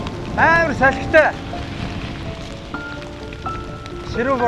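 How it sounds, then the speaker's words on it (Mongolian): Heavy rain falls outdoors as a steady, close hiss beneath people talking. "ширүү бороо орж ийн."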